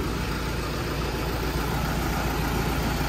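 A ready-mix concrete truck idling at an RMC plant, its engine giving a steady low, even rumble that stays close and constant with no voices.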